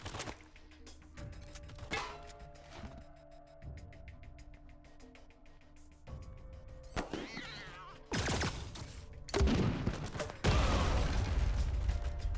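A rocket launcher fires in Wasteland 3 combat, a loud crashing blast and roar near the end that swells over the game's droning music, after quieter mechanical clicks and thuds.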